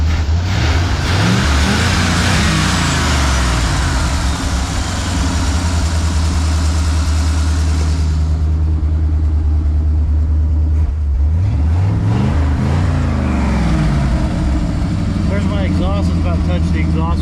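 A modified S10 pickup truck engine, just fitted with a swapped carburetor, idles steadily and loud throughout, with a deep rumble and a brief rev partway through, close by.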